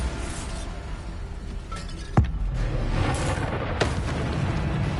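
A Bombarda spell explosion in Hogwarts Legacy, one sharp blast followed by a sustained rumbling wash. It sits over a steady, dense game background, and a softer burst comes later.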